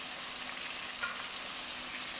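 Garlic and ginger fry in a kadai with a steady, faint sizzle and crackle and one brief stirring clatter midway. Nobody speaks.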